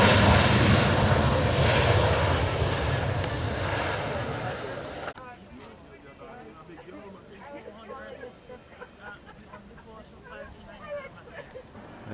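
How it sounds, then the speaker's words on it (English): Small jets land at Argyle International Airport, a loud roaring engine noise that fades over several seconds before cutting off, followed by someone speaking over quieter background. "we have some small jets landing, as you can hear in the recording"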